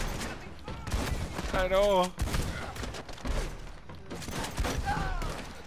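Gunfire in the Red Dead Redemption 2 western video game, rapid volleys of shots during a shootout, loud and close. Someone talks between and over the shots.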